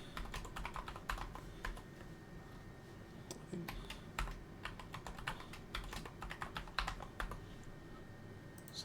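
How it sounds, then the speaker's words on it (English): A password is typed on a computer keyboard, with a quiet, steady run of close key clicks and taps spread over several seconds and no talking. "I'm gonna log in as Mike. Give it the password that we set for it."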